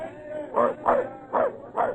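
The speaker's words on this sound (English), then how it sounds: "Get that dog below deck out of the way!" On a sailing ship, a dog gives four short, evenly spaced barks or yips over a low background murmur.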